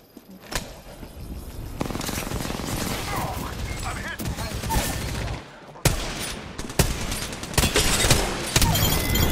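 Repeater rifle shots crack in the Apex Legends battle royale, sharp loud reports spaced a few seconds apart over dense game noise, while players talk excitedly throughout.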